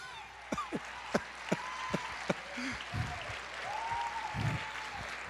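Clapping in a church congregation, a handful of sharp spaced claps at first, then a looser wash of hands mixed with voices singing or calling out.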